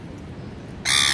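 A single loud, harsh crow caw bursts in at the end, close by, on an Australian street where birds feed from people's hands, after a stretch of quiet low background noise.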